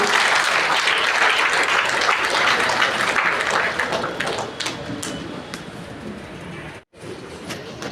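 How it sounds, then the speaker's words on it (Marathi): A crowd at a fishing community gathering in Nagpur claps loudly in a dense burst that slowly thins out, ending in scattered claps with faint murmuring in the room. "कृपया टाळ्यांचा कडकडाट सुरू लागू द्या"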